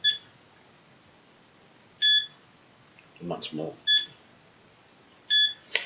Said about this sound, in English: because it's quite high frequency beeping noise